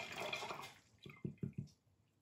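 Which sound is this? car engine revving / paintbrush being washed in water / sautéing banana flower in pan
paintbrush being washed in water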